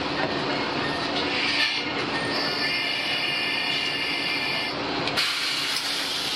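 A Wakasa Railway one-man train bound for Tottori rumbles steadily along the rails, with a high metallic squeal and hiss riding over the constant noise; no voices.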